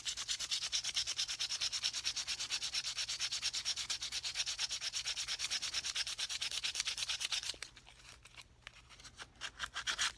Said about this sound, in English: Took me about 10 minutes to sand the head on this.